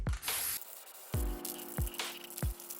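A can of quick-color black spray paint hisses onto a jack-o-lantern in several short bursts, with a sharp click or tap between them, close up and with no talking.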